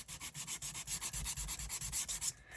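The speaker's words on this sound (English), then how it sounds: "Get my little sander." A small handheld sander works over a junk journal in quick rhythmic strokes, about a dozen close scratchy rasps that stop abruptly near the end.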